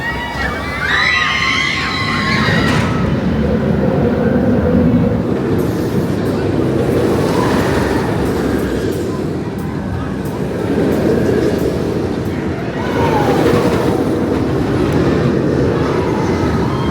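Oblivion, the vertical-drop roller coaster at Alton Towers, roars steadily for the whole stretch, a loud broadband rumble of the ride with a brief high squeal near the start and a rising whine near the end, with voices mixed in.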